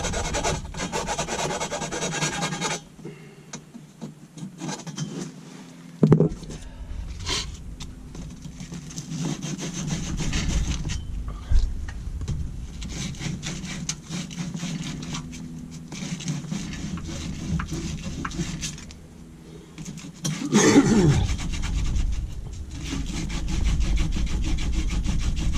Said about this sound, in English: make sure when you're putting SharkBite connections on copper that you file that down and smooth it out real good